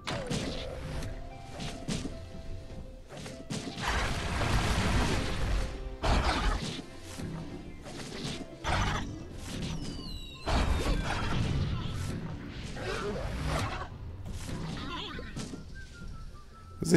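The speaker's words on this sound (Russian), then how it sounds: "Фига там пушка, ребята, влупляет." A cannon blasts in the game Dino Bash amid a battle against horde waves: repeated heavy thuds and crashing impacts with occasional whistling streaks, while someone speaks excitedly over the action.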